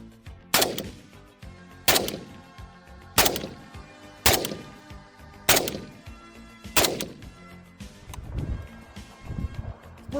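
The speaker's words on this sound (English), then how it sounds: "So let's pop off a few rounds," An AK-47 rifle chambered in 7.62x39 fires at an outdoor range: six loud, sharp single shots spaced about a second apart, each with a booming tail. A few rougher, denser bursts of noise follow near the end.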